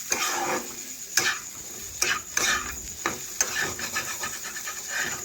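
Potatoes and spices, including Kashmiri chilli powder, being stirred and mixed in a pan with repeated scraping strokes and a light sizzle, close and fairly steady.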